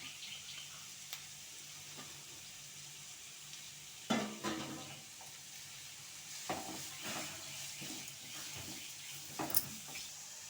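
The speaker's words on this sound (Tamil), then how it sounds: "இது எல்லாத்தையும் போட்டு லைட்டாக நம்ம வதக்கிக்கலாம்." Cabbage and capsicum sauté in a pan with a faint, soft sizzle, broken by a few scrapes and clinks as a spatula stirs the vegetables, quiet and close with no talking.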